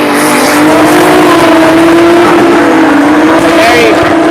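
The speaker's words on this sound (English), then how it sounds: "Wax going in for the dive, but braking a little bit too early." A drift car dives into a corner at a Cyprus practice session, braking a little too early, its engine droning loudly and steadily with tire noise as a commentator talks over it.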